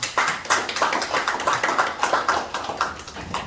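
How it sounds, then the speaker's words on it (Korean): An audience claps for a committee chairman at an indoor gathering, dense rhythmic handclaps close by and fairly loud, steady for a few seconds with no talking over them. "우리 장재석 위원장님 큰 박수 쳐주십시오"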